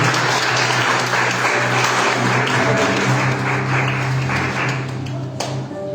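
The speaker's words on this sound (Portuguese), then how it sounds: "Não senta, bate as palmas bem alegre para Jesus." A Pentecostal church congregation claps along joyfully, loud rhythmic hand clapping over sustained music, holding strong before easing slightly near the end.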